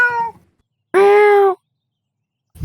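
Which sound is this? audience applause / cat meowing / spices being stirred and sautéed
cat meowing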